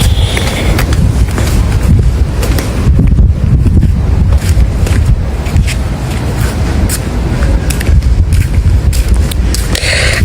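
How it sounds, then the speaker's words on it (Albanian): Strong wind buffets the microphone by the sea at a Caribbean resort, with the wash of waves rumbling continuously and loudly underneath and no voices. "Këtu është deti."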